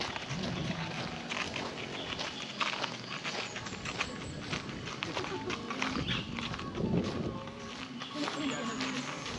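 Horse hooves clip-clop on a path at a pine-forest café, the steady walking hoofbeats repeating over several seconds with wind and people talking nearby.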